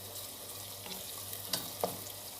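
Soft, steady sizzling of minced meat and chopped onions frying in a pot for an Antep-style olive börek filling, with a couple of faint scraping stirs; quiet and continuous.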